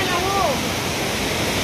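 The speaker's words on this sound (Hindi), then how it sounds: "खम्बेश्वरी वाटरफॉल फाइनली पहुंच गेलो" Khambeswari waterfall roars as a steady, loud broadband rush of falling water, with a brief voice-like tone standing out near the start.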